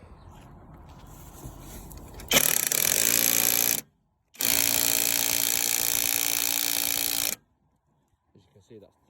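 An impact gun drives an 18mm socket to tighten the strut nut on a Fiat Grande Punto front suspension, two loud sustained rattling bursts separated by a short gap.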